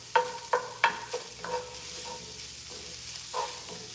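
A spatula scrapes and taps against a pan while meat substitute fries, with several sharp knocks at the start and a soft sizzle underneath, then sparser scraping strokes.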